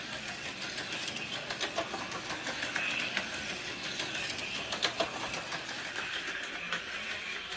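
An AFX slot car runs continuously on its track with a steady, rapid whirring and clattering buzz of a small electric motor, constant in level with slight flutters and no voices.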